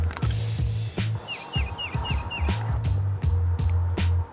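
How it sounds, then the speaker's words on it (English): A tufted titmouse sings five quick repeated whistled notes, faint against louder rolling and scraping noise outdoors on a New Year's Day bird walk in Dallas, Texas. "tufted titmouse is singing. Peter, Peter, Peter, Peter."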